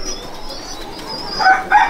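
Soft, fairly faint pigeon coos murmur in a Sangrampur loft, then a brief rustle and flutter of wings rises toward the end.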